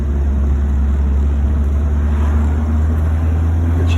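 Steady, loud engine rumble and road noise heard from inside a 1966 Citroen DS21 Chapron convertible as it drives. A constant low drone runs throughout, with no voices.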